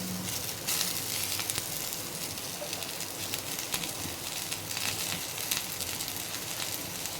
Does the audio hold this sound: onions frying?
yes